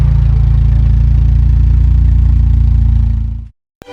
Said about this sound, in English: it's got a nice note now the exhaust is hooked up